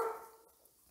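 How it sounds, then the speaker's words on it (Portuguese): A neighbour's dog gives a single short bark, heard at moderate distance, then fades into quiet room tone. "O cachorro do vizinho resolveu latir bem agora, na hora da minha gravação."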